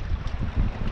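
Steady, rough wind buffeting a microphone outdoors while fishing in Alberta, low rumbling gusts rising and falling throughout with no voices.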